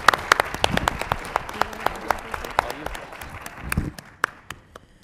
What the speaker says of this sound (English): Please join me in giving a round of applause and thanks to all of our guests.